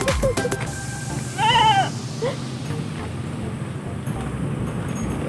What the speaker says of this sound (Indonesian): udah di pinggir jalan itu ada kambing ya